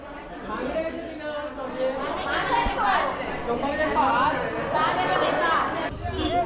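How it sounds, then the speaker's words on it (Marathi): A busy fish market in a Konkan bazaar hums with overlapping crowd chatter, many voices talking at once close by and continuously. "हे बघा मच्छी मार्केट"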